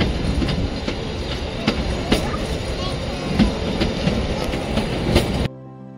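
The Kalka-Shimla train running along the rails, with a steady loud rumble and regular clickety-clack wheel beats heard from on board. The sound cuts off near the end.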